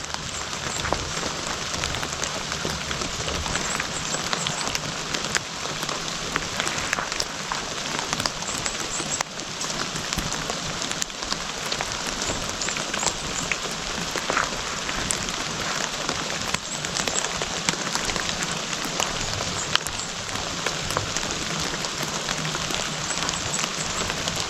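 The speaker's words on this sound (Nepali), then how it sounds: "अहिले पानी परेछ अब म चाहिँ भिज्दै" Heavy rain falls outdoors during a storm, a dense, steady hiss of drops on surfaces that runs unbroken from start to finish, with no voices.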